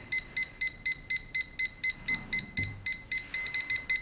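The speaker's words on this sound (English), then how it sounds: "It does beep if it is moving, and once it stops moving, it will stop beeping." A compact self-leveling cross line laser level beeps rapidly while being moved, high-pitched and evenly spaced, repeating continuously with no talking.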